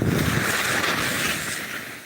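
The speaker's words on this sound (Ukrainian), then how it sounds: "Вітер дуже сильний." Steady, loud wind roaring across the microphone in a forest, a continuous broadband rush that eases slightly toward the end, with no voices.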